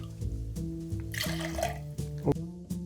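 A local berry-scented vermouth, about one ounce, pours in a brief liquid trickle with a few small splashes, close and moderately loud, with no talking.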